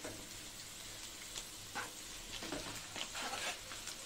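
Vegetables, egg and meat fry in a pan for Maggi noodles, giving a steady close sizzle with intermittent scraping stirs of a spatula throughout.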